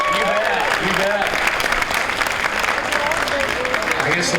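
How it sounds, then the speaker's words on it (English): A crowd at a county fair parade of champions applauds in a dense, continuous wash of clapping, with scattered voices and cheers mixed through it. "Give her a big round of applause."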